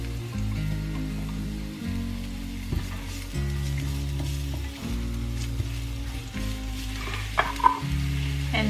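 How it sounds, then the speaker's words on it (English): Garlic sizzles in a hot frying pan for seafood paella, a steady close crackle of frying with a faint musical tone underneath and a small clink near the end. "our frying pan is so guys, it's hot already. So let's put the garlic."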